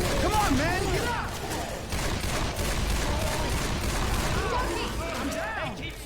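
Rapid bursts of video game gunfire crackle almost without pause, a dense, loud fusillade layered with booms and clanking mechanisms, with shouting voices mixed in over the shooting.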